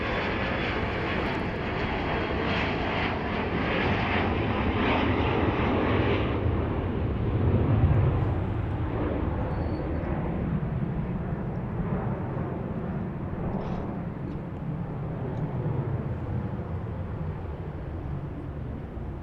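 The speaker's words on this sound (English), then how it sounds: "Oh, we have another plane taking off." A fixed-wing airliner takes off at Dallas Love Field, its engine roar a loud, continuous broadband rumble that holds steady throughout, with no voices.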